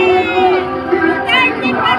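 A brief burst of a large crowd of supporters shouting and chanting the name Duterte, loud voices merging into a rhythmic cheer.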